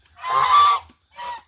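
Geese honk on a duck farm: a long, loud, nasal honk followed by a shorter second call after a brief pause, close by.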